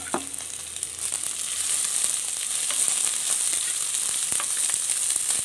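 Chopped onion, ginger and green chillies sizzle steadily in a hot pan, a bright continuous frying hiss with small crackles and occasional stirring clatter, close and with no talking.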